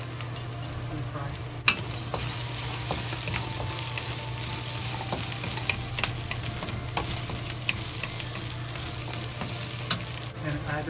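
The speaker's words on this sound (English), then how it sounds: "When the garlic and the ginger and scallion release good smell, we added the fried tofu into it." Fried tofu frying in a wok with garlic, ginger and scallion, a steady close sizzle broken by occasional sharp clacks of a utensil being stirred through, no talking.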